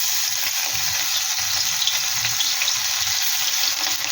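Grated ginger, garlic and green chili frying in mustard oil for egg chili, a loud steady bright sizzle with soft low stirring knocks and scrapes running underneath, close and uninterrupted.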